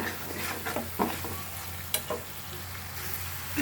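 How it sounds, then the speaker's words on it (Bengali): Spice paste sizzling and frying in a pan for a sauce to serve with grilled chicken and naan, with a steady close hiss broken by a few stirring scrapes. "যে মশলাটা অনেকটাই ভাজা ভাজা হয়ে গেছে"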